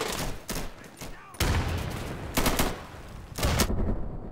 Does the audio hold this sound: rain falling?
no